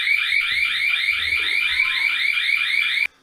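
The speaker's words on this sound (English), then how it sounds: "I set the wrong setting on the alarm." A home alarm going off close by, a loud steady high-pitched warbling tone that sounds continuously for about three seconds and then cuts out abruptly.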